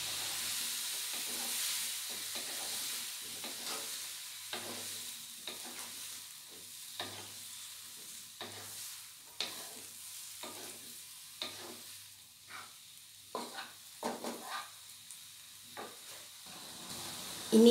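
Mushrooms cooking in a pan with a little added water, a steady hiss of simmering and sizzling broken by repeated scraping stir strokes, close and fairly quiet, with no talking.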